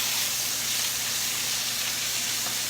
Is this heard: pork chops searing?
yes